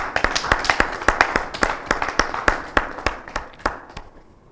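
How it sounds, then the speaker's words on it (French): A talk show audience applauds as a guest artist walks onto the set, a run of distinct, fairly close claps in a quick uneven rhythm that thins out and fades toward the end. "On applaudit pendant qu'il vient."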